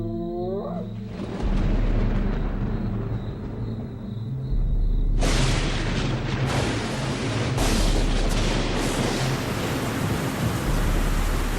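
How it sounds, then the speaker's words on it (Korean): Thunder rolling over the African savanna, a deep sustained rumble that breaks into a louder, harsher crash partway through and then keeps roaring, with no voices. "모두가 기다리던 천둥 소리가 들려옵니다."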